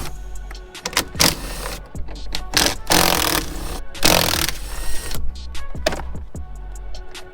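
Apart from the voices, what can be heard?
power tool removing 10mm mirror bolts on a Ram truck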